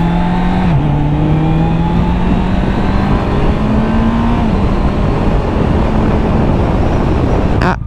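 A 2024 Honda CBR 650 R E-Clutch motorcycle engine drones loudly as the bike is ridden, its pitch stepping down in distinct drops as it downshifts on its own, with road and wind rush underneath.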